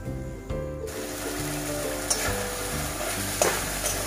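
Prawn and kochur loti curry, cooked with garlic and onion, bubbles and sizzles gently in a pan, a soft steady crackle broken by a couple of brief clinks or stirring knocks.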